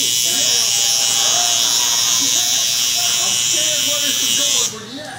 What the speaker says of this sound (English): Want to take our trimmers again?